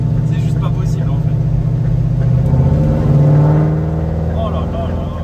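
A car engine revving hard on a race circuit, a loud, close, steady mid-pitched drone that rises in pitch as it accelerates, with a voice talking over it.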